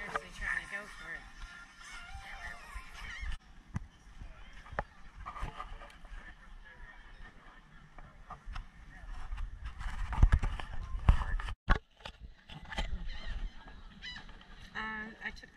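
On a cruise stop at Coco Cay, seagulls squawk and honk repeatedly while trying to grab food, loud and close. Outdoor noise and a voice talking run underneath.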